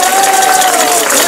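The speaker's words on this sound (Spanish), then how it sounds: "un aplauso para el niño" Applause for a child during a Christmas novena gathering in a neighborhood in Ibagué, Tolima, a brief, loud burst of crowd clapping with voices mixed in.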